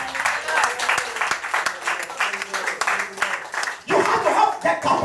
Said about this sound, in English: clap your hands and give him glory